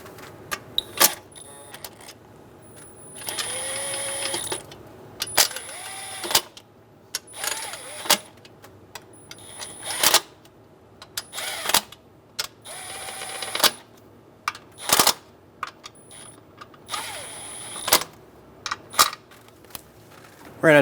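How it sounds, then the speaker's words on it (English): Nuts and bolts being snugged down by hand on the intake manifold of a 2003-2008 Honda Pilot, with repeated short metallic ratchet clicks and tool clinks in irregular bursts separated by quiet pauses, close up. "Go around and snug all of the nuts and bolts down until they touch the cover."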